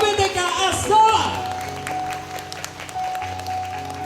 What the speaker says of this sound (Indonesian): boleh lebih keras lagi tepuk tangan itu KBTK As-Salam